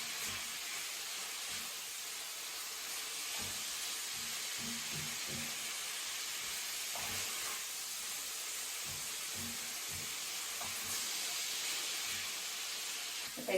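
Food sautés in a pan, giving a steady close hiss and sizzle throughout with faint clinks of stirring, and nobody speaks.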